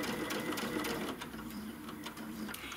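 A sewing machine stitches a fabric belt bag in a quick, steady mechanical whir of needle strokes, close and fairly quiet, running without pause for a few seconds.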